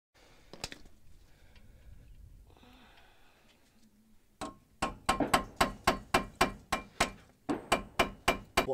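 A hammer repeatedly striking a seized brake bolt on a Hyundai i30 to shock it loose, a run of sharp, evenly spaced metallic blows close by after a quieter stretch of faint shuffling.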